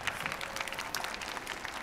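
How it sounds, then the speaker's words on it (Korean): A studio audience at a televised trot singing competition gives a soft, even round of applause, fairly faint and steady throughout with no voices over it. "아 박수 한번 일단 주시죠 은혁 씨."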